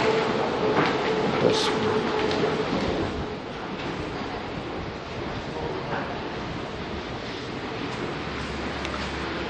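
A London Underground Bakerloo line train rumbles and roars steadily nearby with a dense, rushing noise, a brief squeal near the start and slightly louder at first, while a voice speaks faintly beneath it.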